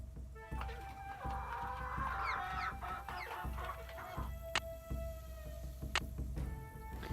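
Chickens cluck on a farm in the Nancy Drew: The Secret of Shadow Ranch game, a steady low hum of bird sounds with a few sharper calls over it.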